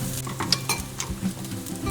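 Garlic shrimp fried rice is stir-fried in a metal wok, loud close sizzling broken by sharp scraping and clanks of the spatula against the pan in an irregular rhythm, with no talking.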